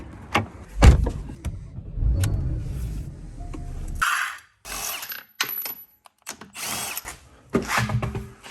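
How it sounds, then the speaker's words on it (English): A power tool, likely an impact wrench, rattles in short, loud bursts while removing a rear wheel from a Porsche 981 Cayman raised in a garage, with quieter clanks and handling noises between the bursts. "I took the wheel off the back here first"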